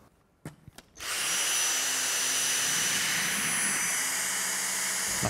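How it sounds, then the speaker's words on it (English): A cordless vacuum cleaner with a V6 motor, two-tier cyclones and carbon fibre bristles starts after a few clicks and runs on a hard floor, giving a loud, steady high whine and airy rush close by. "the combination of the V6 motor, the 2-tier cyclones and the carbon fibre bristles means we can achieve really effective fine dust pickup on hard floors"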